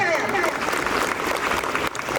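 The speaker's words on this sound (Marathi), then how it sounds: "एकदा परत जोरदार टाळ्या" A room full of people claps loudly and warmly for a retiring school staff member after 33 years of service, at an Independence Day gathering. Dense, sustained applause fills the moment, then dips briefly near the end.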